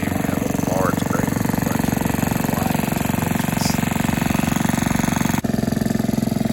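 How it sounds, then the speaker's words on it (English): A 1947 Rio engine taken off a reel mower runs steadily at a tractor show. Its rapid, even chugging stays loud and close the whole time, with faint voices in the background. "It is a Rio engine, and it is off of a 1947 Rio reel mower."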